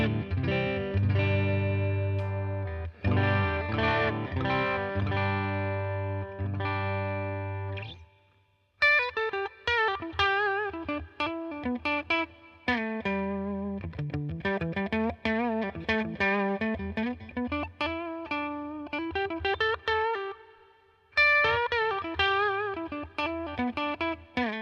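Clean electric guitar tone through a Roland BC Sparkle Clean Tone Capsule with subtle pre-delayed reverb: strummed chords, then articulate picked single notes and short phrases, played alone with small pauses.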